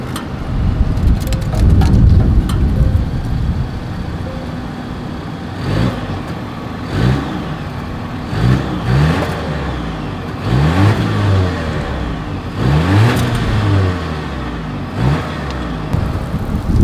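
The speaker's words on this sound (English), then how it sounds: "Here is that exhaust clip." A 2022 Volvo S60 exhaust, heard outdoors as a rumbling idle that rises through several revving bursts, with wind noise underneath and no talk.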